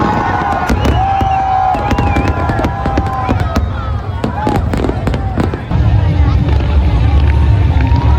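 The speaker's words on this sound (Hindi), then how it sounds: "और फिर शुरू होता है आतिशबाजी, लगभग 10 से 20 मिनट का था" Dev Deepawali fireworks bursting repeatedly outdoors in Varanasi by the Ganges, sharp cracks and booms over a steady crowd murmur and wind, with whistling rockets rising between bangs.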